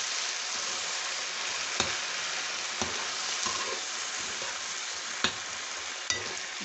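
Tomatoes drop into hot oil, frying steadily in a loud, continuous sizzle for a dish of rice with liver and spices, with a few sharp clicks of a stirring utensil against the pan and no voices.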